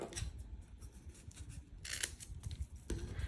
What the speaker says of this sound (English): I'm going to trim off this extra in the middle.